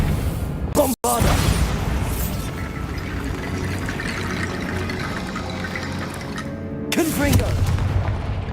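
Bombarda spell explosions in Hogwarts Legacy: a sharp booming blast near the start, a rumbling crumbling tail, then a second heavy impact late in the clip, all loud and close.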